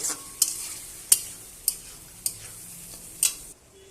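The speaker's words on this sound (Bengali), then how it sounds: "এবার আমি ভালোভাবে কষিয়ে নেব।" Spice masala frying in a pan for a Bengali fish curry with bori and potato, with a steady soft sizzle punctuated by about six sharp spatula knocks at regular intervals, close and alone.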